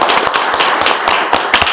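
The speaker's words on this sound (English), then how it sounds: "let's give Riley a round of applause." A crowd at a township board meeting claps steadily in a short burst of applause, close and fairly loud, with no talking.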